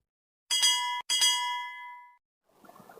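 Two bright bell-like dings in quick succession, the second ringing out and fading, followed by a soft rustling clatter.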